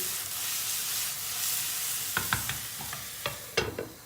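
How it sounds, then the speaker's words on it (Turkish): Zucchini frying in a covered pan, a steady sizzle hiss throughout with several sharp utensil clinks and scrapes near the end, close and fairly quiet. "Kabaklarımız kızarmaya başladı."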